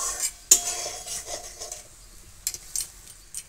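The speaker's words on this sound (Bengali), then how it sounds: "দিয়ে এটা নাড়তে হবে, তা নাহলে নিচেই লেগে যেতে পারে" A utensil scrapes and clinks against a pan while stirring homemade tomato sauce with onion and garlic juice, a few sharp knocks amid soft scraping, close and fairly quiet.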